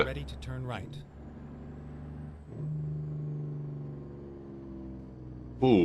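A truck's Jake brake in American Truck Simulator gives a steady, low droning engine rumble that holds for several seconds. Short louder bursts come at the start and end.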